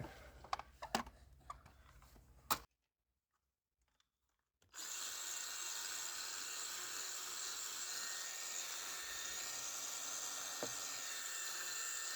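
A cordless drill spins a white scrubbing brush with cleaner over a dirty Mercedes, preceded by a few sharp clicks and a short silence, then a steady, even high whirring brush hum running continuously.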